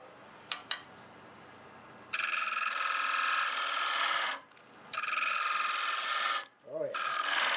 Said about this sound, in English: I'm going to sharpen up this hole gouge.